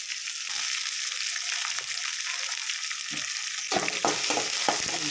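Sliced onions fry in a hot pan, a dense, steady sizzle and crackle that grows busier near the end with a few sharp clatters from stirring.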